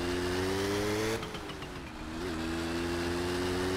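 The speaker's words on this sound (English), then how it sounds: "This is basically like having a push bike with an engine." A small moped engine in My Summer Car holds a steady buzzing drone, dips briefly as the throttle eases, then climbs back to a constant rev.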